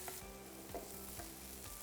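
Shrimp frying in a pan, with a soft, low sizzle and occasional faint clinks from stirring, heard alone without talk.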